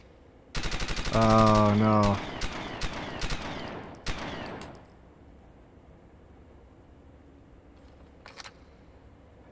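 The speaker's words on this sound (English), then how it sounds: "I'll just fire off that clip." Rapid automatic gunfire from emptying a magazine in the N64 shooter WinBack, a dense burst of shots lasting several seconds alongside game sound effects, with people talking over and after it.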